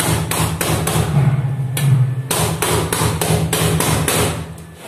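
An inverted cake pan of biscuit cake is tapped down onto a metal plate, a rapid series of loud, close hollow thumps and knocks with a short pause midway, no voices.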